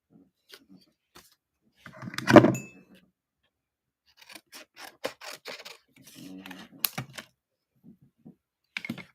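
Scissors snipping strips of thick white paper, a few sharp crisp cuts spaced irregularly with quieter rustling and small clicks between them, close by and alone.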